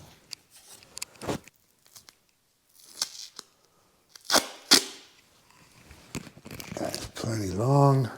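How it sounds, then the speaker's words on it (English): Gaff tape rips off the roll in several short, sharp tearing bursts with quiet handling noises between them, followed by a faint whine near the end. "Gaff tape."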